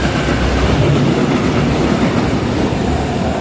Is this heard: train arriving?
yes